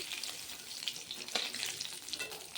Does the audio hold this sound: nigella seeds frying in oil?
yes